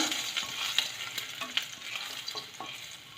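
Dry red chillies fry in hot oil in a home kitchen while being stirred, a close crackling sizzle broken by scraping clicks of the spoon against the pan, with no talk.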